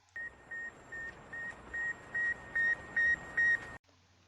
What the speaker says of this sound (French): nous envoyant continuellement son bip-bip